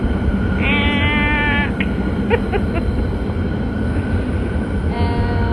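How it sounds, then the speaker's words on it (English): A subway train runs past close by with a steady loud rumble, a high wheel squeal near the start and scattered metallic clicks and tones. The noise fills the whole stretch without fading. "Subway."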